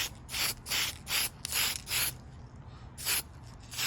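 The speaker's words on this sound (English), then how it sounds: "light little spray" Spray paint from an aerosol can hits a clear Lexan RC car body in a series of short light bursts, about six hissing passes with brief gaps and a longer pause before the last two, close and fairly quiet with no talk.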